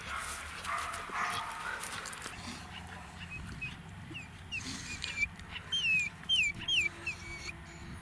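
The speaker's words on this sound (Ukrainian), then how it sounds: "Американський ставтер'єр виведений шляхом скрещення бульдога і тер'єра." An American Staffordshire Terrier gives a run of short, high yips and whines in the latter half, fairly close, over a quiet indoor background.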